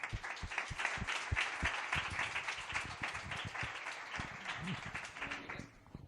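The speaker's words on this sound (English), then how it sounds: "we are going to give a big warm hand to Pedro Clavería" A conference audience at a startup event claps to welcome a speaker, a dense, steady round of applause that fades slightly at the end.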